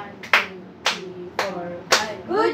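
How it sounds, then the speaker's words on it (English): Hands clap sharply four times in a steady, slightly uneven rhythm during a classroom teaching demonstration, each clap crisp and close, with a brief voice at the end. "Give five clap."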